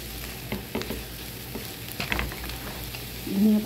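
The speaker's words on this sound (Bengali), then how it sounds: "সামান্য একটু ভাজবো, 1-2 মিনিট ভেজে আমি এটা আপনাদের পরিবেশন করে দেখাচ্ছি" Snake gourd frying with egg and chopped coriander in a pan, giving a steady low sizzle with scraping stir strokes, close and continuous with no voices.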